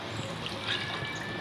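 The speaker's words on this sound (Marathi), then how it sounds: "डाळ शिजण्यासाठी पाणी टाकायचं" Water is poured into a pot of soaked, split green moong dal with skins on, ready for cooking. It makes a brief, close trickling splash that lasts just over a second.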